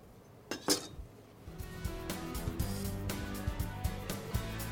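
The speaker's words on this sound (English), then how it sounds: "a quick chop of fresh parsley" A knife chops fresh parsley for a garnish on a hard surface, rapid uneven taps and clinks running steadily, close and fairly loud, with no talk.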